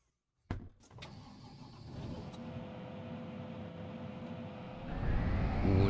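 A farm vehicle in Farming Simulator 22 starts up after a door clunk, its engine settling into a steady drone and rising louder toward the end, with no talking.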